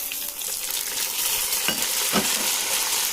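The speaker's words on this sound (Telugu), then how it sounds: "ఇప్పుడు ఇందులో టమాటాలు వేసుకోండి" Chopped tomatoes tipped into a hot pan of oil while cooking kakarakaya (bitter gourd) curry, setting off a steady loud sizzle and frying hiss, with a couple of brief stirring scrapes and no talk.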